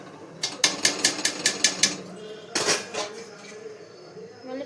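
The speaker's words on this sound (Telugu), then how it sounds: "రైస్ అంతా ఇలా సర్దుకోవాలి." Rice is being arranged in a pot for Hyderabad dum biryani, with a quick run of about eight sharp metal clinks of a utensil against the pot, then a few more scattered scrapes and taps at close range.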